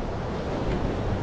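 Surf on a California beach rolls in a steady, soft wash of breaking water, with wind buffeting the microphone throughout.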